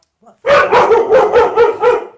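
A dog barks during a Sunday church service: a quick run of about six loud, close barks in steady rhythm after a few soft yips, heard on its own.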